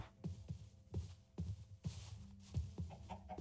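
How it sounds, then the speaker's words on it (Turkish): A chicken Pokémon in the Minecraft Cobblemon game clucks in a quick repeated series of short, close, clipped notes, faint overall and with no talk over it. "Tavuk, tavuk Pokemon'u."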